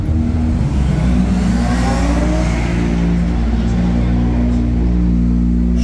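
A BMW 340i revs loudly at a garage car meet, its engine giving a steady, dense roar that stays close and strong throughout, with a faint murmur of voices behind it.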